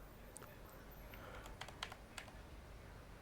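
A computer keyboard being typed on to enter a code: a short, quiet run of light, irregular key clicks over faint background hiss.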